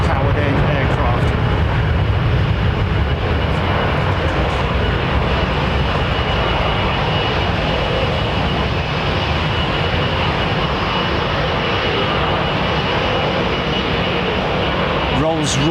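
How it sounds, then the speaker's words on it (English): A Boeing 777 with Rolls-Royce engines at London Heathrow Airport gives off a loud, steady jet roar that holds unbroken and close for the whole stretch. "Rolls-Royce variant of the 777."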